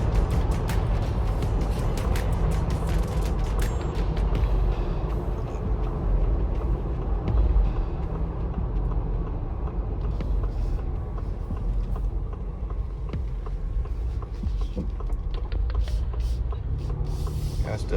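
A 2025 Ford Bronco Outer Banks, lifted two inches with a Rough Country kit and riding on Nitto tires, accelerates at partial throttle; a steady, loud, close engine and road rumble runs throughout.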